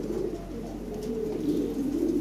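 Many pigeons at a fancy pigeon sale coo softly and continuously, low throaty calls overlapping against a quiet background hum, with no talking.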